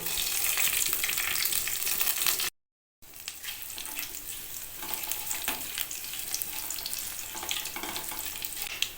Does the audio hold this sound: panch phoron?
yes